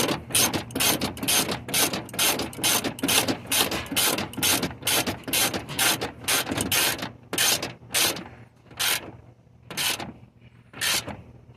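Ratchet wrench tightening window motor bolts on a 1989 Oldsmobile Regency 98, a steady run of close, loud clicking strokes that slow to spaced single clicks toward the end.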